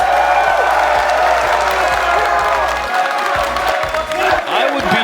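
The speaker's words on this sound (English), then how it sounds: "Please, crowd, give it up for Rise and Moist Esports." A Rocket League World Championship arena crowd cheers and claps for Moist Esports, producing a loud, dense roar with scattered whoops and a possible caster voice mixed in throughout.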